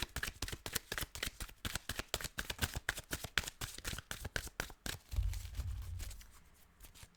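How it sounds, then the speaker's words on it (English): A deck of tarot cards is shuffled close up, a rapid run of crisp riffling slaps that ends in a softer rustle and settling of the cards, with no talking. "It's been a bit tricky to shuffle."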